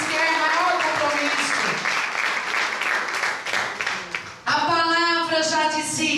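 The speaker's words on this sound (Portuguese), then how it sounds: "Dê uma salva de palmas" Church congregation applauding during a Pentecostal sermon, a loud sustained wash of clapping with voices mixed in, continuing for several seconds and swelling again near the end.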